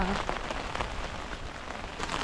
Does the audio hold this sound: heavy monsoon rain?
yes